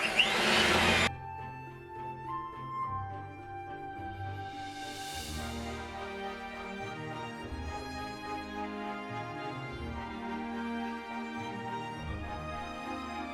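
An electric mixer beats butter cake batter in a steady, fairly quiet whir, the motor droning on with a changing churning texture as the batter thickens.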